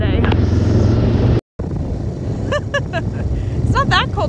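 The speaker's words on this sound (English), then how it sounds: "And we're taking the four-wheeler." A four-wheeler ATV drives outdoors on a cold, snowy day, its engine a steady close drone throughout, briefly cut out once, while people talk over it.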